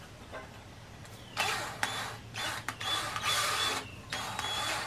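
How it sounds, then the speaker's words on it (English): A drill bores holes into a ceiling for screws while a clawfoot tub shower enclosure is built, with several loud, harsh bursts of drilling separated by short pauses. "we're going to drill a hole here and a hole here so we can put them screws into the ceiling"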